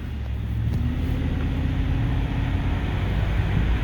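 Ford F150 pickup truck from the 2009–2014 years rolling along the road on a test drive, a steady low engine and road rumble heard from inside the cab, with no talking.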